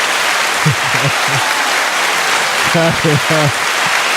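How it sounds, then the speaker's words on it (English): Applause fills the room as a dense, steady wash of clapping, with a voice speaking briefly over it. "Clap it up for his free adventure."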